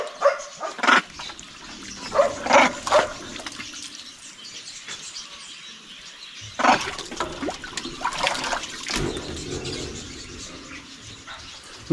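Water poured into a plastic basin for a dog: intermittent splashing and gushing bursts, with dog noises and bird calls nearby and a quiet stretch in between.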